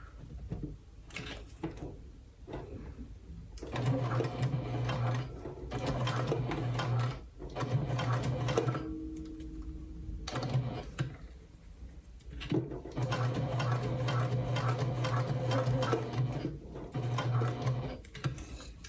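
A sewing machine stitches through layered fabric for spooky-themed pouches, running in several close bursts of steady mechanical whirring separated by short pauses, with no talking.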